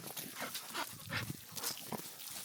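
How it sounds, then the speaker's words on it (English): A pet dog on a truck camping trip gives several short, yappy barks and huffs in quick succession, fairly close and moderately loud over a faint outdoor background. "this is Murphy, this is one of my female dogs"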